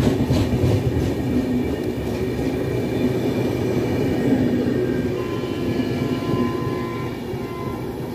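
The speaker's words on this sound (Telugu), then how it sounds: "అవతల సైడ్ ట్రాక్లో గుంటూరు నుండి విశాఖపట్నం వెళ్ళి డబుల్ డెక్కర్ ట్రైన్ అయితే వచ్చింది" A double-decker train running from Guntur to Visakhapatnam rumbles steadily past on the opposite track, its continuous low rolling roar holding at a fairly constant loudness throughout, with no voices.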